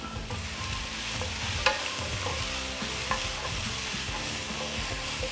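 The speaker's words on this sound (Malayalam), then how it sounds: "മൂന്ന് ഗ്രാമ്പു മൂന്ന് സബോള നീളത്തിലരിഞ്ഞത് ഇതിട്ട് നന്നായിട്ട് വഴറ്റാം" Sliced onions with cloves and a piece of cinnamon sautéing in a pan for pork vindaloo, a steady close sizzle with scraping stirs and a couple of sharp utensil clicks, no voices.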